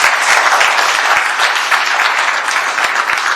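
Steady, loud clapping from an audience at the Boxing Canada Hall of Fame induction ceremony, a dense, even wash of hand claps filling the room without pause.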